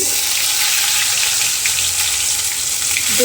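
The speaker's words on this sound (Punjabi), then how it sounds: "ਤੇਲ ਦੇ ਵਿੱਚ ਆਪਾਂ ਜੀਰਾ ਪਾ ਦਵਾਂਗੇ ਤੇ ਜੀਰੇ ਨੂੰ ਤੜਕ ਲਵਾਂਗੇ" Cumin seeds crackle and sizzle in hot oil while tempering for a bottle gourd curry, a steady, dense frying hiss close by with no talk over it.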